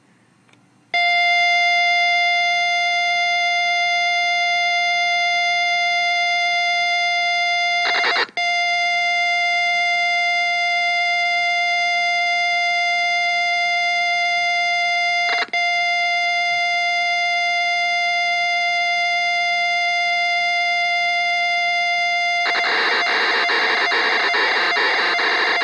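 A TI CC-40 loads program data from cassette tape: a loud, steady electronic carrier tone broken by two brief clicks, then a harsh, buzzing data burst near the end, with no voices.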